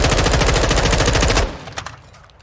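Automatic gunfire in Call of Duty MW2 while testing a Schlager 3.4X scope, a loud rapid burst of about one and a half seconds that cuts off into a fading echo and a few faint clicks.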